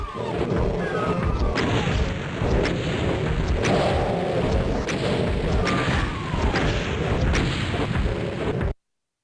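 Repeated rocket explosions in a video game, about seven blasts landing in close succession as dense, loud booms and crashes with no talk over them, stopping abruptly near the end.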